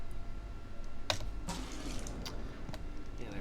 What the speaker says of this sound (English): Now I'm going to fill this water bottle.